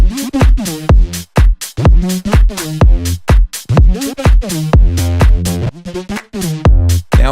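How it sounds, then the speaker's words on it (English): Electronic dance music phrase with rhythmic synth chords and a delay effect automated to echo only on selected notes, adding subtle movement and space; loud, steady, no voices. "The delay actually only happens on the notes we want it to."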